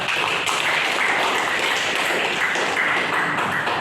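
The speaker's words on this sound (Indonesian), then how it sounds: "Kita kasih tepuk tangan semuanya" Classmates applaud a group presentation in a classroom during a teaching practicum, a continuous wash of clapping at even volume, fairly close, with no talk over it.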